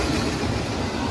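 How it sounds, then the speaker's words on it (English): A long Canadian Pacific freight train rolls past close by, a loud, steady roar of wheels and rail noise filling the whole stretch with no pauses. "This is a long train."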